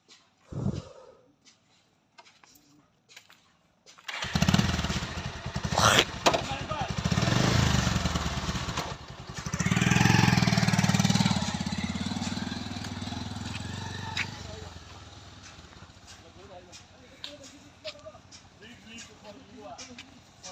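After a quiet start with a few knocks, a motorcycle engine starts and runs loudly, revving and idling, then fades down to a low hum.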